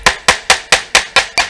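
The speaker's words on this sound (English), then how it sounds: "using your little hammer to tap the face so where it is flush" Small hammer tapping a transmission part flush during a 4L60E transmission rebuild, seven sharp evenly spaced metallic taps in quick succession, close and loud with no talking.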